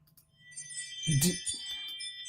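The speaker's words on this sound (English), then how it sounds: "My doorbell keep ringing." A bright, ringing chime sounds with a metallic tinkle that swells and lingers, like a doorbell heard indoors.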